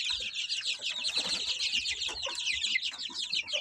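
Young chickens drink after their water ran out, keeping up dense, continuous high cheeping and clucking at close range. The sound is fairly faint, with no talk.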